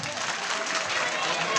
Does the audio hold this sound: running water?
no